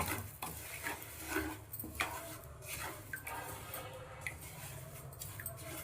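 White sesame seeds dry-roasting in a pan over a high flame, with steady scraping stirs and light rattling of seeds against the metal, close and continuous with no talk.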